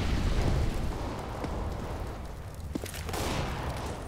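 An incendiary grenade bursts into a roaring, crackling fire in the shooter CS:GO, a loud continuous rush of flame with scattered pops, heard alone.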